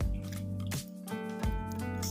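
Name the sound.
curd being added to cooked rice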